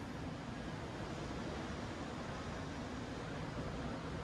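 Ocean waves rolling past a deck in the Cayman Islands, a steady broadband wash of surf with no distinct breaks, moderately quiet and continuous, with some wind noise and no talking.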